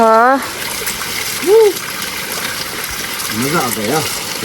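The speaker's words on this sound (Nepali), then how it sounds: "साथीहरू यहाँ मुख धुँदै हुनुहुन्छ" Water runs from a tap or spout as people wash their faces outdoors, a steady gushing trickle with splashes heard under close, loud voices.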